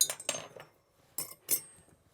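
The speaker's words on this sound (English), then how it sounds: "Dump the ice out of the glass" Ice cubes tipped out of a cocktail glass after stirring, giving a few sharp clinking rattles in two close bursts separated by a short pause.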